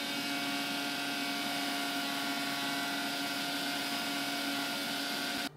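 Steady, loud motor whine of a blender blending an apple and honey milkshake, running without pause until it cuts off at the very end.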